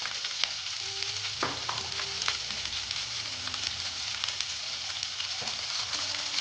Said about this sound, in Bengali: দিয়ে আলুটাকে আমি খুব সুন্দর করে ভেজে নেব।